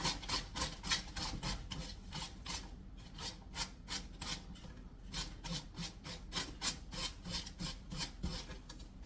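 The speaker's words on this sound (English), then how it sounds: "I'm going to take my sandpaper and gently go in a downward motion to remove" Sandpaper rubbing in repeated downward strokes across a wooden side table to remove excess decoupage paper, a quiet, close, rhythmic rasping with no speech.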